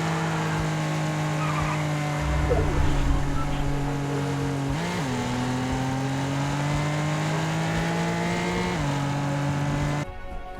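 A car engine in Fortnite hums steadily at a fairly even pitch, with a couple of brief shifts and dips in tone, loud and close.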